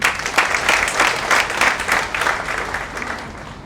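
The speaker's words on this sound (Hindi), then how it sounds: "तो इसके लिए भी तालियां होनी चाहिए।" An audience at a Hindi-language gathering of office-bearers claps in sustained, full applause that rolls on loudly throughout, with no voices standing out above it.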